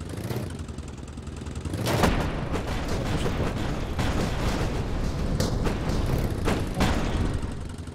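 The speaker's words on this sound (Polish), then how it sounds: "chyba wybuchłem wszystkie miny" Land mines exploding in the video game Guts and Glory, a dense run of loud, booming blasts with sharp bursts around two and five seconds over continuous rumbling game noise.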